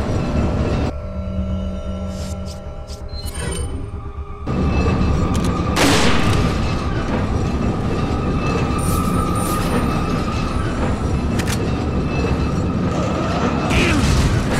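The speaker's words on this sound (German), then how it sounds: "Wir müssen schnell die Waffen nachladen" Clattering mechanical weapon handling and reloading in Resident Evil 4 during a mine-cart ride, with rumbling rail noise and metallic clanks continuing steadily under the scene, loud and close throughout.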